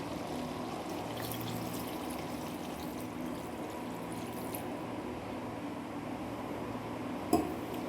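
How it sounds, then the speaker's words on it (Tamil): Water steadily poured into a pot of simmering chicken gravy in a home kitchen, a continuous close liquid stream with a brief clink near the end. "இந்த ஸ்டேஜில் நம்ம கறியை வேகிற அளவுக்கு தண்ணி சேர்த்துக்கலாம்."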